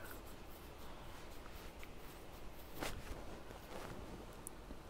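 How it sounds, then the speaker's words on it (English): Soft footsteps of a Sims character in The Sims 4, faint and steady against a low background hum, with one slightly louder step near the middle. "I hear footsteps"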